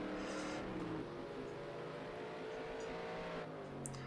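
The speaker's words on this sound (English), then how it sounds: "Just the sound of the engine. It's absolutely beautiful." A race car engine in a racing video game roars steadily throughout, a continuous high-revving drone with harmonic whine and no voices.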